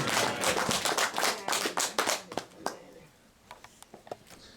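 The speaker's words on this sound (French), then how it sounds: "Let us clap for Jesus" A church congregation claps together for Jesus during a service, a burst of loud rhythmic clapping that thins into a few scattered, fading claps.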